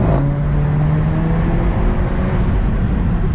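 A modified car engine fitted with a blow-off valve runs loud and close, a continuous heavy rumble holding steady through the whole stretch with no voices.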